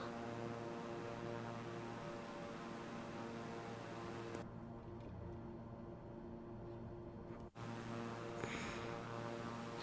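A steady propeller airplane engine drones in the video game Flight Simulator 2024, loud and continuous, with a brief change in tone partway through.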